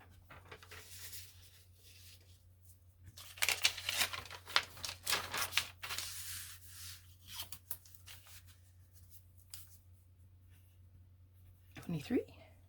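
Tea-dyed paper being handled gives quiet bursts of crinkling and rustling in irregular clusters, close to the mic, with near silence between them and faint voice sounds in the background.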